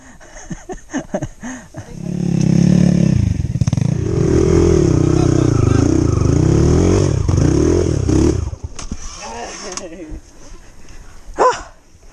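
Motorcycle ridden along a dirt trail, its engine rising into a loud, sustained drone for several seconds before dropping away, with clattering, people talking and a dog barking around it.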